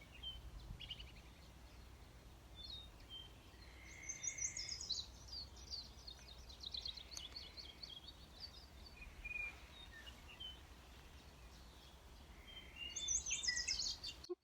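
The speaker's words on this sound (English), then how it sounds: "Another bird that's singing in front of us is a house wren. It's just kind of chattering right now" A house wren chatters at a county park: faint, scattered high chirps and short twittering bursts, distant and quiet, with a slightly busier spell near the end over a low ambient hum.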